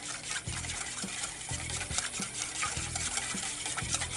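Grapeseed oil and red wine are whisked together in a bowl for a marinade, with quick rhythmic scraping strokes that repeat about twice a second, close and clear, without talking.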